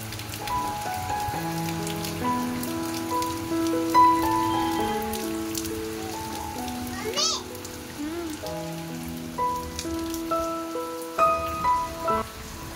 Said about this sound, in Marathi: बघ ना किती पाऊस चालू आहे